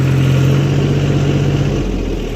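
A tractor engine runs loud and close while working a field of hard soil with a cultivator, a steady low drone that dips slightly near the end.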